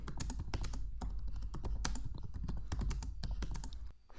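Rapid, uneven keystrokes on a computer keyboard while text is entered in Google Docs, close and clear with no voices, continuing steadily for about four seconds before stopping abruptly.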